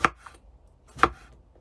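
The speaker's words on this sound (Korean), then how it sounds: "같은 두께로 이렇게 잘라 주시면 돼요" A knife slices through eggplant on a cutting board, making two sharp, close chops about a second apart with a faint tap between them, in a quiet room.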